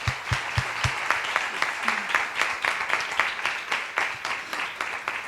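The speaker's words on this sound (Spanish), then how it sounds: "Un aplauso." An audience applauds at the end of a round-table discussion at a science communication event, with steady, moderately loud clapping throughout, short sharp claps near the start and a brief murmur of voices.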